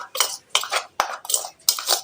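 Wheat flour being mixed with oil, chili powder, turmeric, salt and cumin in a bowl, heard as a series of distinct scraping strokes of a utensil against the bowl in an uneven rhythm, close and clear.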